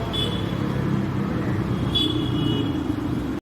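Continuous drone of an auto-rickshaw engine riding through city traffic, steady and fairly loud throughout, with a faint high whine and a brief horn-like tone near the start and again midway.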